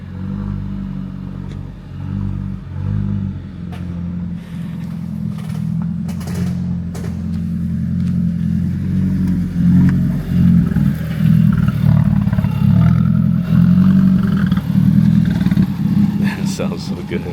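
An Alfa Romeo 4C engine runs and revs steadily with a deep, throbbing low rumble that grows louder and fuller over the stretch, with a few sharp clatters early on and no talk over it.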